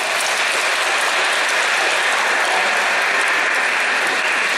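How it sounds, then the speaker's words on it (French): A church congregation at a Christmas Eve evening Mass applauds a boy, producing loud, steady, dense clapping from many hands that continues evenly for the whole stretch with no voices over it. "Wow, on peut l'applaudir, hein?"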